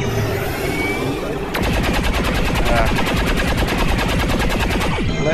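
Soldiers shooting in the video game XCOM 2: after a moment of ambient rumble, a sustained burst of rapid, evenly spaced automatic gunfire rings out loud and close for several seconds.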